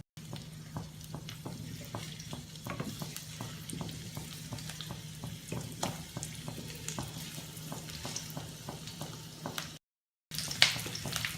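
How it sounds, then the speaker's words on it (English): Diced onion and capsicum frying in oil in a kadhai, a close steady sizzle broken by regular clicks and scrapes of stirring, continuous with a brief cut near the end, no talk. "Now in the same oil, we will roast our diced onion"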